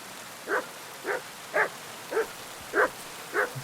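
A dog barks in the rain in the Kingdom Come Deliverance 2 video game, six evenly spaced single woofs, fairly close and clear over a quiet background.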